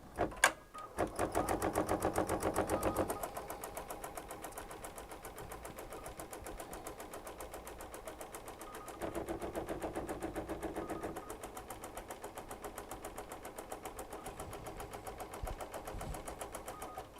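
An embroidery machine stitches a fabric tack-down placement line, a steady rapid mechanical chatter running throughout at moderate level, louder in two stretches, with a sharp knock near the start.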